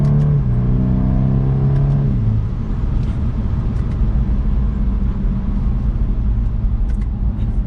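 A 2022 BMW 230i coupe on a smooth, winding downhill road, its engine droning steadily under constant road and wind rumble, with a brief rising rev early on, heard from inside the cabin.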